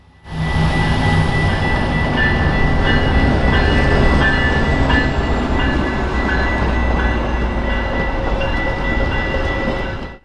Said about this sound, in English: Providing some variety in the power this morning was another Metra former Amtrak F59 PHI.